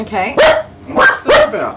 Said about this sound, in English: And we're barking. Scared the crap out of me.